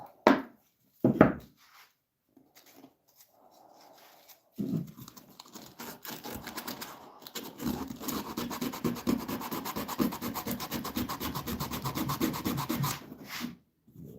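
Wood being sanded by hand with a finer-grit sandpaper in a workshop: a few short scrapes, a pause, then a long steady run of quick back-and-forth rubbing strokes, close and moderately quiet.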